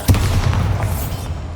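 A loud, booming blast from the Bombarda blasting spell in Hogwarts Legacy, a sharp burst followed by a rumbling low-end tail that stays dense and sustained across the short moment.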